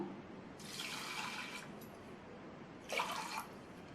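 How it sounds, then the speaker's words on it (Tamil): Water pours into a rice cooker with rice in two short bursts, a longer splash then a brief second one, over a quiet hiss of room noise. "இதில் அரிசி எடுத்த கப்லேயே 1/2 கப் தண்ணி சேர்க்கணும்"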